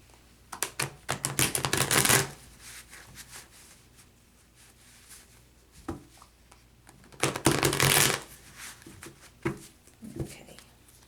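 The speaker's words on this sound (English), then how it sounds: "just want to shuffle a little bit more and then we will get started." Tarot cards shuffled by hand at close range, heard as two dense bursts of riffling and flicking separated by quieter handling and a few soft taps.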